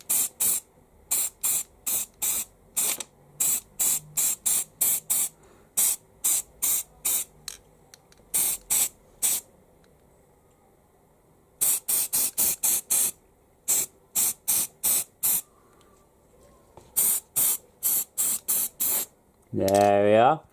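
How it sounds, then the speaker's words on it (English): Chaos Black spray primer hisses onto Warhammer Lizardmen Saurus Warriors miniatures in many short, close bursts, some in quick runs and others after longer gaps, with a brief voice at the very end. "I'm actually going to be spraying them in a base of Chaos Black."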